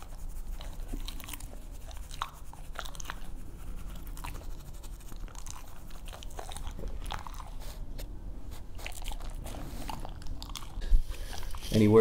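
A husky crunches and chews crunchy fish up close, irregular crisp bites and grinding chews repeating over quiet background, with a louder bump near the end.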